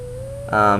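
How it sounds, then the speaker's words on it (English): Wolf Link howls Zelda's Lullaby in The Legend of Zelda: Twilight Princess, a brief tone rising into a loud, sustained, harmonic howl. "you'll be able to howl that Zelda's Lullaby that you learned earlier"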